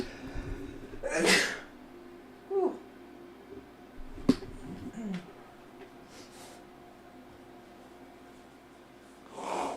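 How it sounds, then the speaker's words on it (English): A person sneezes indoors while playing a farming game, one loud sudden sneeze with sniffs and breathy snorts around it, then quieter room noise and faint voice sounds. "Hold on, I have to sneeze."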